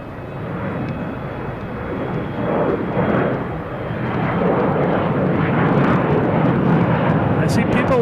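Delta Embraer E175 jet taking off at Boston Logan, a broad steady engine roar building gradually and staying loud throughout, with people talking faintly underneath.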